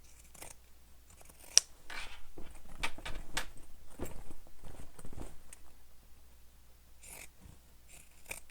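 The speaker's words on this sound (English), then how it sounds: "Now I'm going to trim that seam" Pinking shears trimming a fabric seam on a handbag, a series of crisp snipping cuts in quick irregular bursts, close and fairly quiet with pauses between clusters of snips.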